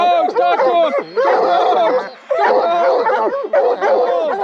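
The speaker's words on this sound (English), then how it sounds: "Dogs, talk to them!" Bear hounds in training bawl, yip and whine excitedly, several dogs at once in rising, wavering cries that overlap almost continuously, close and loud, with only brief lulls.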